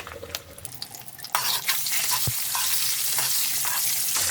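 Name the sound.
eggs frying lightly in hot oil with turmeric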